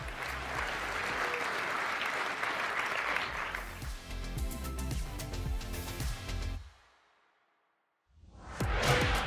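An audience applauds loudly, the clapping steady and then thinning, falling briefly silent before another burst of applause.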